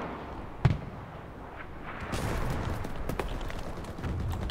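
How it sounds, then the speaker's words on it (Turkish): An explosion in the World War II shooter Enlisted lands as a sharp, loud blast. Crackling combat noise and further distant booms follow it. "Patlıyor."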